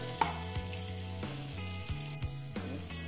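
Chopped onions fry in a pan for tomato pulao, giving a steady soft sizzle under louder tonal background music that changes notes every half second or so.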